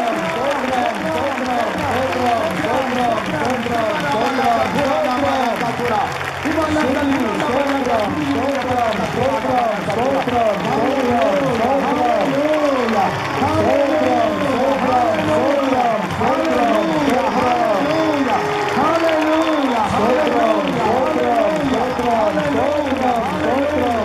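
A church congregation claps hands in praise at a worship festival, a loud steady rhythmic clapping that carries on for the whole stretch, with singing or voices mixed in.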